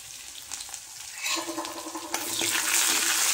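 Garlic hitting hot oil in a pan already holding cumin and curry leaves, starting as a soft crackle and swelling into a loud, steady sizzle close by.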